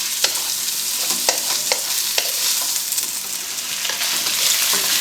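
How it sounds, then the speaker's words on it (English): Chicken and meatballs sizzle steadily in a hot pan for mie goreng while a utensil stirs them, with scraping clicks at irregular intervals over the constant frying hiss; no talk. "I'm going to just add my meatballs, and I'm going to stir these up."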